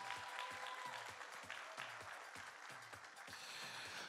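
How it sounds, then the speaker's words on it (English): A university talent show audience applauds performing artists, a full crowd clapping continuously at a distance, with rhythmic low thumps pulsing steadily underneath. "Let's get a round of applause for all the artists."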